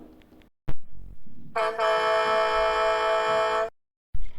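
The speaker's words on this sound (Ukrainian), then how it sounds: "а це хтось дуже голосно сигналить." A single long car horn blast, loud and steady for about two seconds, with brief clicks and quiet noise before and after.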